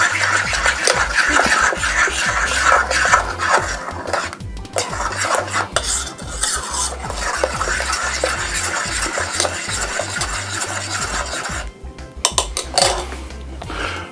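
A spoon stirs almond syrup with allulose warming in a pan, scraping and clinking steadily against the metal for the whole stretch, close and fairly loud with no talk, then briefly dropping away near the end before resuming.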